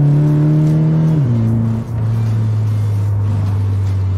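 A 2014 Toyota FT86 engine holds a loud steady drone, then the pitch drops sharply as revs fall, settling into a lower constant hum up close.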